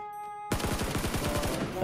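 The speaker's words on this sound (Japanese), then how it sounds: "なんか銃声したかな" Rapid automatic gunfire in the Knives Out battle royale game, a gatling-style burst of fast repeated shots that starts abruptly after a short tonal lull and rattles on steadily, fairly close.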